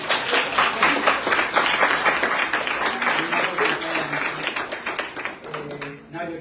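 An audience at a book presentation in Bogotá breaks into steady, dense applause, many hands clapping close together for several seconds before it thins out and fades.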